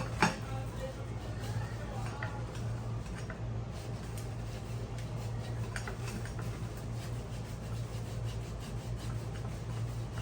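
A branch is cut from a Ficus salicaria bonsai as raw stock is styled, a quiet, steady rasping saw-like rubbing close by, continuous over a low background hum.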